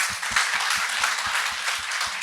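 An audience at a youth employment celebration evening gives steady applause, a broad even wash of many hands clapping, with a low rhythmic thump running beneath it.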